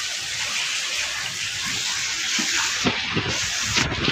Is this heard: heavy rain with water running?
yes